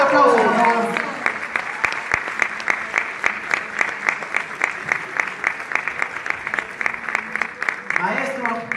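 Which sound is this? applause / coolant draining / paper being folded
applause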